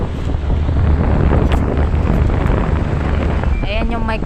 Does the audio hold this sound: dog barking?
no